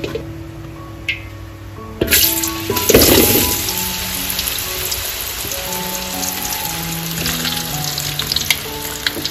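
Food frying in a pan at an outdoor home kitchen on a rainy day: loud steady sizzling and crackling that surges as ingredients go in, with some stirring clatter and faint background tones, no speech.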